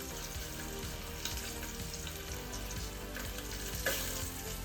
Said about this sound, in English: all we're going to do is just going to slowly brown them